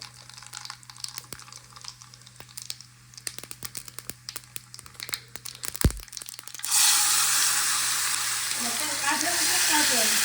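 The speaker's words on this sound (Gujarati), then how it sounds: "વઘાર કરીશું ટમેટાના શાકનો" Oil is heated for the tempering of a tomato curry, with faint crackles and spoon clicks, then a loud burst of sizzling as the ingredients hit the hot oil, continuing as a steady roar, close by.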